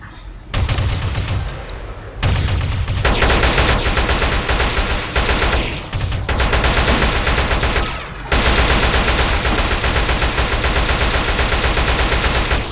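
Gunfire in the GTA video game rattles in long, loud, dense bursts of rapid shots with only brief pauses, filling most of the stretch with no talk.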